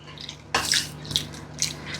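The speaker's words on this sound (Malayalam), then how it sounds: "ഇതിപ്പോൾ കടലമാവ് കലക്കിയ 1 കപ്പ് വെള്ളം." Gram flour mixed into a cup of water is poured into a simmering tomato kurma curry in a home kitchen, a soft splashing pour with a few gurgling spurts, close and fairly quiet.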